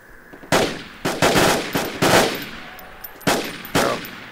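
Loud gunfire in the military shooter Project Reality, IDF infantry combat: sharp, separate shots and short bursts at uneven intervals, close and punchy with quick decays, no talking.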